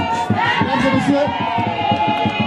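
A loud crowd ovation at an outdoor speech event at Cocobeach, dense cheering and chanting voices filling the whole stretch close by, with rhythmic shouts rising and falling.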